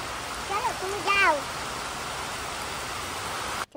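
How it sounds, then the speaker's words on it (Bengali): Heavy rain pours down outdoors by a vegetable garden as a constant, even wash of noise, with a brief high tonal call near the start. "মা বৃষ্টি নামছে খুব"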